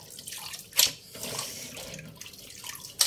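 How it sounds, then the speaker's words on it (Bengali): Tap water running over bitter gourd in a kitchen sink while it is washed, a soft hissing splash that swells and fades with a few sharper splashes, close by with no voices. "2-3 বার করলাটা ধুয়ে নিব"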